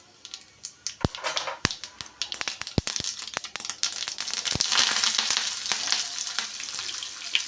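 Mustard seeds sputter and pop in hot oil in a kadai, sharp crackles scattered over a steady sizzle that thickens toward the end, close and fairly loud with no talking.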